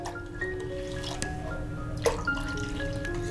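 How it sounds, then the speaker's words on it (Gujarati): Water is poured into a yogurt and gram flour batter for Surti kadhi, a soft trickle with a few drips close by, quiet and continuous over a faint background tone, with no one talking. "ત્યારબાદ આપણે તેમાં 2 કપ પાણી એડ કરી દેશું"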